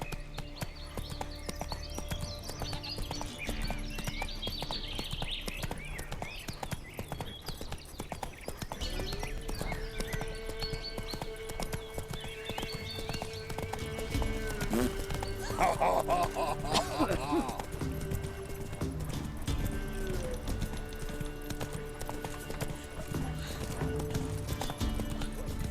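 Roach, the horse in The Witcher 3 video game, gallops with rapid, continuous rhythmic clip-clop hoofbeats, close and clear, with occasional whinnies, game music and ambient sounds underneath.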